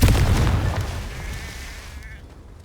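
A Confringo blasting spell goes off in Hogwarts Legacy, a loud booming burst at the start that rumbles and fades over a couple of seconds, with a thin ringing tone lingering through the tail.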